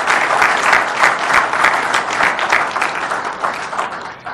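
An audience applauding during a formal official speech addressing the head of state, dense sustained clapping from many hands, loud and even throughout with no pause.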